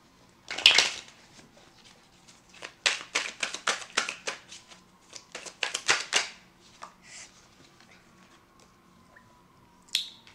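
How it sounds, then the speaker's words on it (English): A Rider-Waite tarot deck is shuffled in quick crisp bursts of riffling card clicks, one short burst followed by a longer run of rapid flutters, then a brief final snap. "Let's get a card from the Rider-Waite deck."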